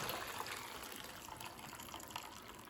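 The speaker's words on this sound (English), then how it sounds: "I'll just drain the water off that" Water from cooked pasta poured off into a sink, a soft steady gush and splash of liquid running for a couple of seconds, fairly quiet and with no talk.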